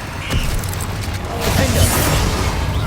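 A Confringo fire spell goes off in Hogwarts Legacy during a fight with spiders: a broad, rumbling blast swells midway and lingers under continuous game noise.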